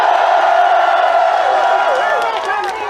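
A large crowd at an outdoor political rally in South Korea, opposing an impeachment, shouts and cheers loudly in unison, a sustained roar of voices with some clapping and whoops.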